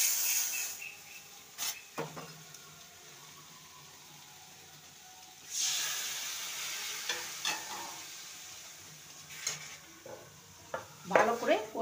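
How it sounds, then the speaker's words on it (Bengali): Spice-coated soybeans fry in a pan with a little warm spice water, giving a soft, hissing sizzle throughout. Intermittent close spatula scrapes and clinks recur every few seconds and grow busier toward the end, with no talking. "ভালো করে কষিয়ে নেব।"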